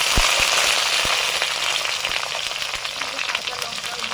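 Eggplant and pumpkin sizzle steadily in hot oil with five-spice (panch phoron), a dense continuous frying hiss with occasional sharp crackles and pops, close and fairly loud.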